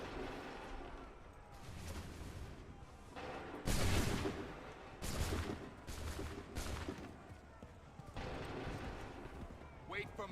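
Soldiers fire a musket volley in Assassin's Creed 3, loud cracking bursts repeating at intervals amid shouted commands and battlefield noise.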